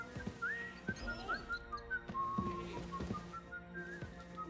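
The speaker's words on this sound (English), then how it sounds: "That's not Henry whistling." A character in Kingdom Come: Deliverance 2 whistles a wavering melodic tune, fairly quiet and steady over a few seconds, with soft thuds and clicks scattered beneath.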